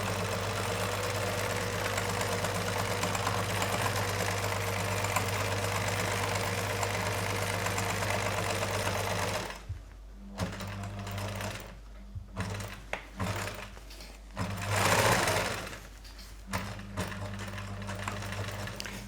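A sewing machine runs steadily for about ten seconds, stitching lace onto patchwork squares, then stops and starts in short bursts, close and fairly loud with no talking.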